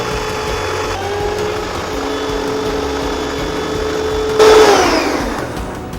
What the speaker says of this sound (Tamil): இதை நல்லா பீட்டரில் போட்டு மிக்ஸ் பண்ணிக்கோங்க.